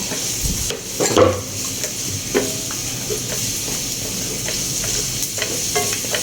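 Garlic sautéing in a pan while chicken and broccoli are being cooked, a steady sizzle and fry hiss with a few scraping stirs and clatters of a utensil close by.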